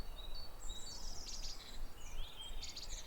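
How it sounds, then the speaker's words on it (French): Recorded forest birdsong played back quietly: several birds chirp and trill in bright, overlapping phrases above a soft, steady hiss of background noise, with no talking. "on va se remettre des oiseaux"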